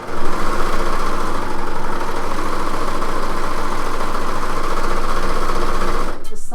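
A serger runs steadily at high speed along the bottom hem of a blouse, its rapid whirring and clatter loud and close, cutting off abruptly near the end.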